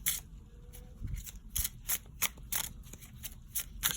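Tarot cards being shuffled over and over, three decks, a run of crisp papery riffles and snaps, close by and fairly steady, with no one talking.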